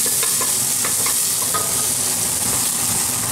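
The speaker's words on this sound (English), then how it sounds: "you're gonna saute the onion and garlic" Onion and garlic sautéing in a pan with steady, loud sizzling and hiss throughout, punctuated by light scraping and stirring clicks of a utensil, close up with no voices.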